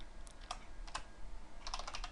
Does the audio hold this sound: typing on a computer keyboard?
yes